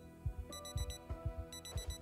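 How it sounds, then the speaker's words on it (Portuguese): Repeating electronic alarm in the video game Project Zomboid, a rapid beeping pattern pulsing in bursts of tones over low thumping rhythmic sounds, loud and steady with no voices. "Poxa, o alarme... Que alarme é esse, mano?"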